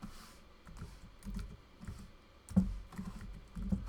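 Quiet keystrokes on a computer keyboard while HTML is typed, a soft irregular patter of close clicks and taps with small pauses between bursts.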